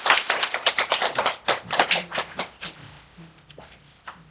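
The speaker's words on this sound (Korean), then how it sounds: "다들 그렇게 생각하시면 박수 주세요." A small group of daycare centre directors clapping at a meeting, a burst of distinct, fairly close claps that thins out and fades toward the end.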